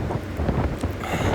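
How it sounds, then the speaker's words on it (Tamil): Strong sea wind buffets the microphone on the Pamban bridge, a steady loud roaring rush with gusty swells and no speech. "காற்று தள்ளுது வெளியே எட்டி பார்த்தாலே"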